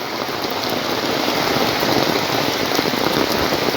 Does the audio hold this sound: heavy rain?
yes